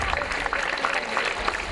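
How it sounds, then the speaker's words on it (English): Audience applause fills the space as a steady wash of clapping, moderately faint and continuous throughout, with no distinct pauses. "let's give him a very, very big round of applause."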